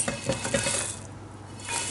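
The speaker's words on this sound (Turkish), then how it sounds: "Karışımımızı döküyoruz." Sugar-free, flour-free cookie mixture with fried oats and nuts is poured into a bowl, giving a few soft clinks and scraping taps of utensil against the dish, then a brief quiet rustle.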